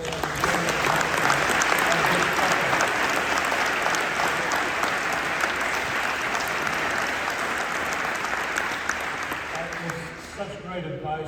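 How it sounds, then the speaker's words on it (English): Sustained audience applause fills a hall after a sports medicine panel on young athletes, dense steady clapping at full strength for about ten seconds before thinning and fading at the end. "I think we need to give a round of applause"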